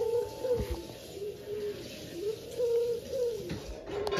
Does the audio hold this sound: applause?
no